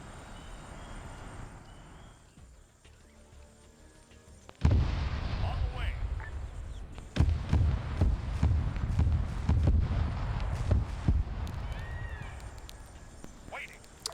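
Autocannon in Arma 3 firing a rapid string of heavy booming shots with explosive impacts, loud and sustained after a quieter opening, with voices talking over it.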